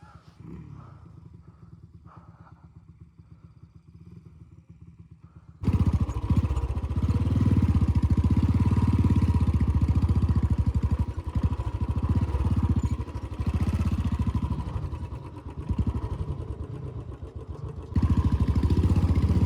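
A Royal Enfield Bullet motorcycle stuck on a dirt trail chugs at a low idle, then roars loudly and continuously as it is revved hard, with a brief dip before the engine surges again.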